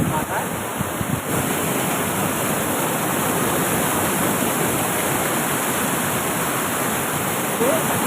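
Lodda waterfall pouring down from a mountaintop, a steady, dense roar of falling water that holds loud and unbroken throughout, with no pauses.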